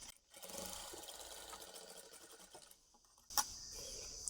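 A sewing machine stitches a uniform dress with a half collar neck, a faint continuous mechanical whir that fades out near the end before a short sharp click and renewed hum.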